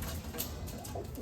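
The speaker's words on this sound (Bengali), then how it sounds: "এটা নর পায়রা, খুব সম্ভবত নর বাচ্চা।" A young male pigeon chick gives a soft, low coo, close by and brief, with a faint hiss of room noise behind it.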